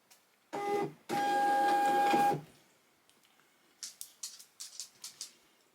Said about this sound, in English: Here's a Bly machine printing all the labels.